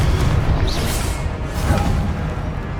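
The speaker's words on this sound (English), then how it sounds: "Confringo!" Confringo blasting spell going off in the Hogwarts Legacy video game during a boss battle: a dense, loud booming burst with whooshing swishes, sustained rumble through the short stretch.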